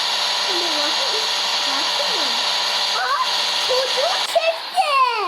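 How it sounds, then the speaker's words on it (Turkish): In the Roblox game The Chamber, a steady vacuum-cleaner-like whooshing drone runs throughout at a loud, even level, with a voice speaking and squealing over it in bursts toward the end. "Evet elektrik süpürgesi gibi."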